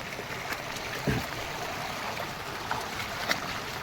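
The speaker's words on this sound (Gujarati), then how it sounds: "બહુ દાદુ પાણી જઈ રહ્યું છે" Heavy-rain floodwater pours across a farm road near Rajula in Gujarat as a steady, broad rushing wash, with a few faint knocks and splashes along the way and no speech.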